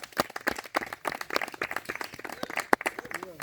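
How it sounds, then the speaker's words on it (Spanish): Hands clap sharply and irregularly to drive a green, unmanageable 12-year-old recipient mare, a rapid scatter of close, crisp slaps with a louder crack near the end, mixed with shuffling movement and faint voices in the background. "El aplauso la mueve."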